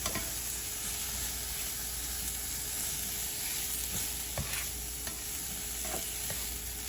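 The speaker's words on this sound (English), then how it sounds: "Kind of move it around in the pan." Mahi mahi sizzles quietly in a pan while being stirred and moved around, a soft continuous fry with scattered scraping clicks from the utensil; no talking.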